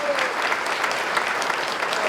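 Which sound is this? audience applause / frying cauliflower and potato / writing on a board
audience applause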